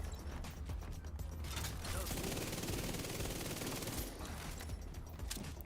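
Submachine gun fire in The Division 2, a steady rapid burst of shots sustained through the middle of the clip with mechanical clatter around it, loud and close.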